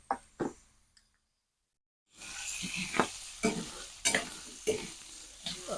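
Meat spits and sizzles in hot oil, with a few sharp stirring clacks, a brief hush, then a steady frying hiss close by that is punctuated by regular scraping strokes.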